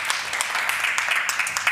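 An audience at an agriculture and climate panel event applauds after a presentation, a short burst of scattered clapping at moderate distance, continuous and fairly even, with no talk.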